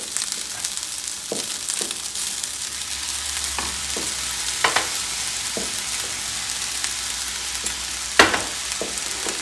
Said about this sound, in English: just keep stirring the rice around